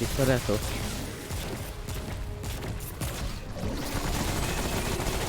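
Gunfire in the video game Remnant: a dense, continuous barrage of shots and impacts, loud and sustained throughout, with game effects layered over it.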